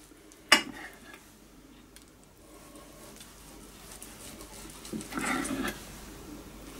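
A knife slices through a slow cooker meatloaf on a plate: one sharp clink of metal on the plate, then soft scraping and cutting sounds, close and quiet.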